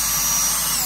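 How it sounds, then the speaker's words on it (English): A power drill running in reverse bores into a hollow plastic statue, giving a continuous loud high whine close by with no talking. "I reverse drill first, basically put the drill in reverse"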